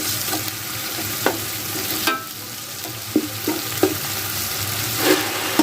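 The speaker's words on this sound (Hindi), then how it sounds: "4 से 5 खाने के चम्मच लहसुन अदरक पेस्ट, हल्की सी बुनाई कर लेंगे।" Garlic ginger paste fries with browned onions in a pot for a beef yakhni pulao, sizzling steadily at moderate volume while a spoon scrapes and stirs in occasional sharp knocks.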